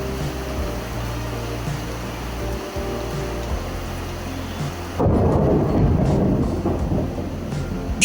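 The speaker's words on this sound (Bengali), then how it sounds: "সুন্দর বৃষ্টি শুরু হয়েছে দেখো" Heavy rain pours on a stormy day while low thunder rumbles beneath, the downpour swelling suddenly louder partway through into a dense close hiss.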